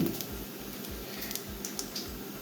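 Crushed carom seeds (ajwain) crackle and sizzle steadily in hot oil for a tempering, a dense patter of small pops close by, with no one talking.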